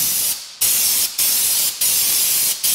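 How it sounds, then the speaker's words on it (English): Black lanolin undercoating hisses loudly from an aerosol can onto a car's shock absorber in four close, sustained bursts with short breaks between them. "I'm gonna spray a little bit of black on it just to cover it up."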